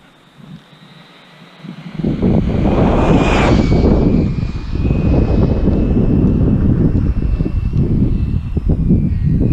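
Team Redcat SC10E electric RC short-course truck on a speed run, 19T pinion, topping 80 mph: after a quiet start, a loud high-pitched motor whine swells abruptly as it screams past close by, then holds as a sustained roaring rush with wind buffeting.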